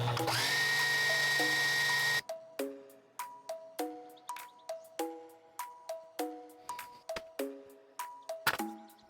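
A Juki TL-18 sewing machine winds its bobbin with a steady motor whir, then the hum stops and a string of regular clicks and metallic taps follows at close range.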